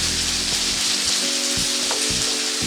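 Papaya curry, already cooked until the oil separates, hisses and sizzles loudly in a hot pan as water is poured in, with a dense, crackling spatter throughout and no voices.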